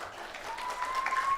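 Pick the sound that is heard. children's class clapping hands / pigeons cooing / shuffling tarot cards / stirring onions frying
children's class clapping hands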